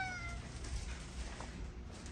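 A house cat meows faintly at the start, a few drawn-out calls over steady low room noise and rumble.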